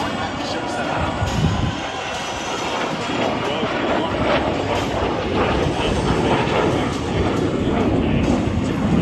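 A P-80 Shooting Star jet passes at an air show, a broad, roaring rush of engine noise that swells and holds across the clip over a murmuring crowd, with an announcer's voice faintly under it.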